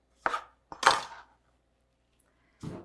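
A knife chops through the ends of a zucchini on a board, three separate sharp cuts, close and fairly quiet, with silence between them.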